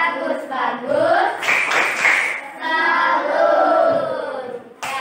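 Classroom audience of students clapping a short rhythmic salute for two classmates, bursts of hand claps and children's voices mixed with a teacher talking over them, fairly close and loud.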